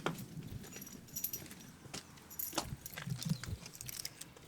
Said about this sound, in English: I can run my car keys down the gable of my wall